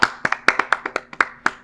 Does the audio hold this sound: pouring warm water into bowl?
no